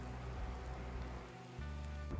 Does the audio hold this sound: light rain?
yes